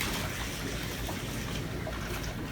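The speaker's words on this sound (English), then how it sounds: "You can hear the water going through." Water rushes steadily through a hose into a bucket during an aquarium water change, a constant soft hiss and gurgle with no other sounds.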